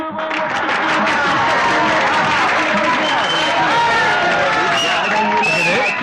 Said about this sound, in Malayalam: പ്രൊഫസർ സിദ്ധുവിനെ എല്ലാവരും കൈയടിച്ച് സ്വീകരിക്കൂ